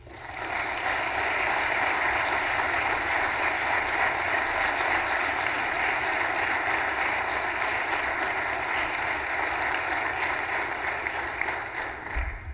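Audience at an Army ROTC awards ceremony gives sustained, dense applause welcoming General Martin E. Dempsey, a loud steady clapping roar filling the hall for the full stretch.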